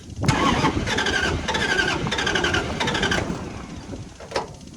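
A small carburetted engine, run with its choke set in cool weather, cranks in several quick, close, loud bursts as someone tries to start it, then falls quiet.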